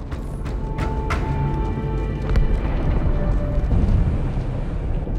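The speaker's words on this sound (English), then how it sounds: "That explosion came from inside the Athens." Deep rumbling explosion aboard a space station in the video game Halo 2 Anniversary, a sustained low roar swelling midway with scattered debris crackle and sharp hits early on.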